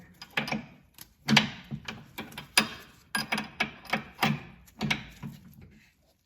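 A stubby wrench turning a bolt loose on a Honda NSX during a knock bushing install, giving a close, regular series of short ratcheting clicks and metallic scrapes, about a dozen strokes before stopping, with no talking.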